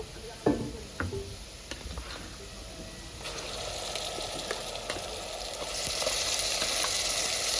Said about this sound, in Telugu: ఇప్పుడు ఫ్రై అయినాయి ఉల్లిగడ్డ పచ్చిమిర్చి అన్నీ ఇప్పుడు పట్టి పెట్టుకున్న మసాలా వేసుకుంటుండీ